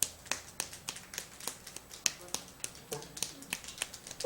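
One person demonstrates different ways of clapping, producing a steady series of sharp, close individual claps at an even pace, with faint talking between them.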